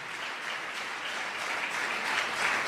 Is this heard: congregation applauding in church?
yes